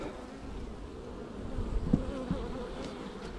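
Honey bees buzzing densely around an opened hive during a honey harvest, a close continuous drone with individual bees flying past the microphone.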